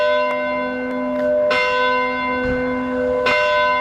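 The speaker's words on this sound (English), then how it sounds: "Tonight at the church, the bells toll 105 times" Church bells toll at a church in Portland, a sustained ringing hum broken by several fresh strikes spaced about a second or more apart, with no voices present.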